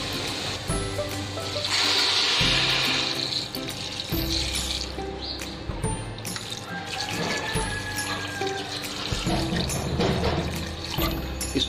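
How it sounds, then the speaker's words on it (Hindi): Water splashes and runs steadily into a pot of black gram with tomato and onion in a home kitchen, a loud continuous pour with gurgling and clinks, no talking. "अब इसमें हम डालेंगे पानी"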